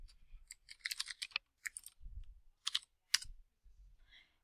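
Keystrokes clicking on a computer keyboard as a search term is typed, arriving in quick irregular bursts with short pauses between words, close and fairly quiet with no talking.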